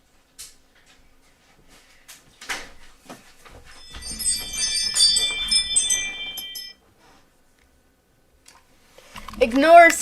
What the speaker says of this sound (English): It's a notification on my phone.